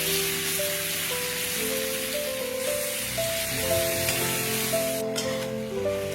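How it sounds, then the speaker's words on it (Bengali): Chicken pieces fry in hot oil in a kadai with a continuous, dense sizzle that stays loud and even throughout, while music plays underneath. "এবার ওই তেলের মধ্যে চিকেনগুলোকেও ফ্রাই করে নেব।"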